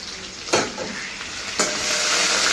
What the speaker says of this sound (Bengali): তো মাছটা আমার প্রায় হয়েই এসছে।